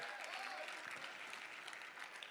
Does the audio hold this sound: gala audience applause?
yes